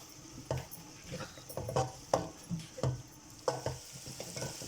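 Sliced carrots added to cauliflower are stir-fried in a pot for vegetable biryani, with a soft sizzle under repeated, rhythmic scrapes of a spoon against the pan, quiet and close.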